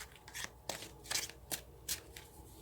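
Tarot cards being shuffled by hand, quick riffling bursts repeating in an uneven rhythm, close and fairly quiet with no talk.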